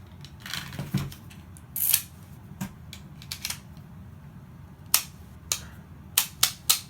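Pistol rounds are pushed into a Jagemann Glock magazine using an ETS C.A.M. mag loader, giving a series of sharp, close metallic clicks and snaps at irregular intervals, quickening into several crisp clicks near the end.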